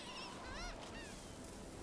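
Seagulls call a few times in Dragon Age: The Veilguard, short wavering cries over a steady, faint ambient wash, then fading out.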